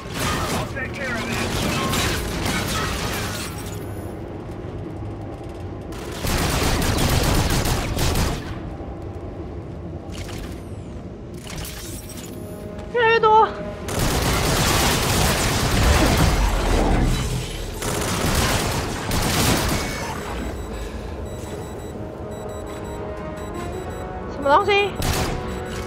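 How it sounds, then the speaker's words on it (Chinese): An automatic weapon sprays in Call of Duty: Infinite Warfare, firing several loud sustained bursts separated by short pauses, mixed with in-game effects and a player talking over the action. "这样扫射流，有时候还蛮爽。"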